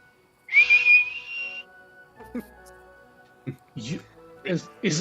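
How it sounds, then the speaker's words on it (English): A single sharp, sustained whistle blast sounds, followed by people talking. "He blows the whistle."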